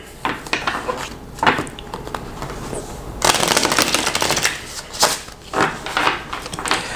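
Tarot card deck shuffled by hand in bursts of riffling and sliding cards, close and fairly quiet, with a longer continuous shuffle in the middle and short brushes of cards afterward.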